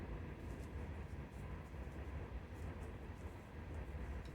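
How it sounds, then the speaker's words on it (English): A long freight train rolls past at night, a loud steady rumble of wheels and cars on the tracks that holds for the whole stretch without letup. "this train's really loud tonight, and really long. It's not a bright line, it's a freight train."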